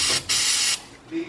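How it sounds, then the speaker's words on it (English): Brake cleaner hisses from an aerosol can in short bursts onto an oily, gunk-covered motor, loud and close, with a brief gap between the sprays. "spraying it with brake cleaner back and forth for a little while now"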